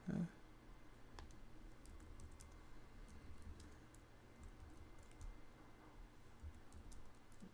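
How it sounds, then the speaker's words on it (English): Keys on a computer keyboard are tapped in a steady patter of light clicks, faint and close, over a low room hum, with no talking. "I'm just going to type it in."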